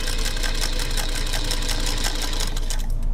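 A Singer Featherweight sewing machine stitches a piece of old wool crepe in a steady, fast, close-up run of mechanical clacking that stays even throughout.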